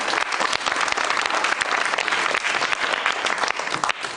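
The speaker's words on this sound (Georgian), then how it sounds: "ეს ტაში რას ნიშნავს" A television talk-show studio audience breaks into loud, sustained clapping that stays dense and even from start to finish.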